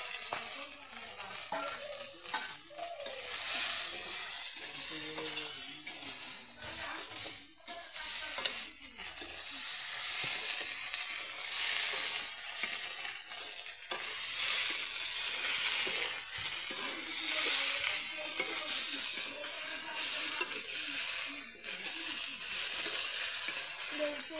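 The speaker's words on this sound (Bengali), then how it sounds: "এখন ভেজে রাখা সয়াবিন আর আলুটা কষিয়ে নিব।" Fried soybean chunks and potato with spices are stir-fried in a pan over a wood-fired clay stove, with a continuous sizzle under repeated scraping and stirring strokes that grow busier toward the end, and nobody speaks.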